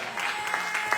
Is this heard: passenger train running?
no